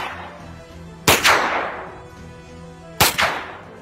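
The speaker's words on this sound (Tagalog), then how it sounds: "nang marinig ang sunod-sunod na mga putok mula sa kinaroroonan ng matalik na kaibigan" Two loud, close gunshots crack out about two seconds apart, each a sharp blast with a brief echoing tail, over a faint low background.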